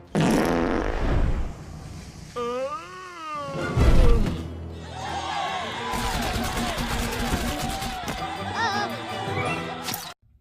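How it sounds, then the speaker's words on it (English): A cartoon fart gun from Despicable Me 2 blasts amid a busy movie scene, with wavering cat-like yowls, crowd bustle, crashes and character voices tumbling over one another in a loud, chaotic mix. "Instead of the jelly, we get an all-usual fart gun to the face."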